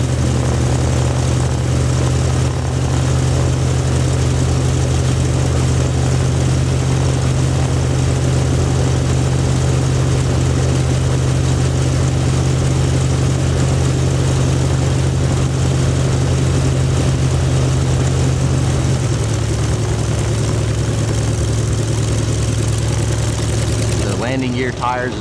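An A-26 aircraft's piston engine, which throws oil everywhere on start-up, runs at idle with a loud, steady, close droning rumble. The pitch dips slightly partway through, then the sound cuts off near the end.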